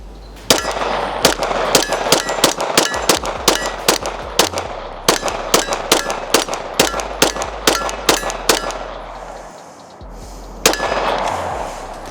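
A Glock-style pistol fitted with a Strike Industries frame and Seeker optic fires through a full magazine: a long string of sharp, loud, ringing shots at a brisk, slightly uneven pace, with a short pause before one final shot.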